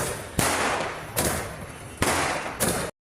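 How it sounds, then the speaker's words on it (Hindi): A sky shot firework bursts several times during an Ahoi Ashtami celebration, giving four loud, booming cracks about a second apart, each trailing off into a broad rushing roar. "और उसके बाद बेटे ने जलाया अपना स्काई शॉट।"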